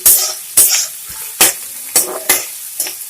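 Ginger-garlic paste fries in a pan, stirred in six sharp, evenly spaced scraping strokes, each a bright sizzling swish over a quieter background hiss, close and loud.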